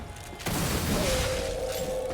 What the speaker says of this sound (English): the explosion that sends you forward isn't just for show